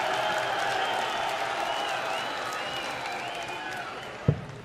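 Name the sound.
darts crowd cheering and applauding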